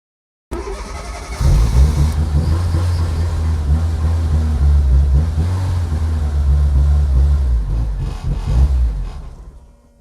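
A Fiat Cinquecento Turbo engine catches after a moment of silence and runs with a loud, close, rumbling idle that swells briefly before cutting out near the end.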